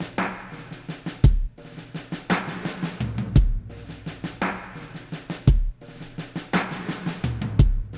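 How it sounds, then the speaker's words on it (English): Snare drum track in a Logic Pro production with rolls and fills, sharp repeated hits in quick bursts over a steady groove of light percussion and low thumps, close and clean with no voices. "I then added another snare track with some rolls and fills in between."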